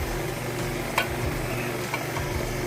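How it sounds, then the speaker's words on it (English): Mango pulp being stirred into a creamy mango pie filling in a bowl, a continuous wet churning hum from an electric mixer with a couple of small knocks, steady and close, no speech. "Add the mango pulp. You're mixing it, mixing everything."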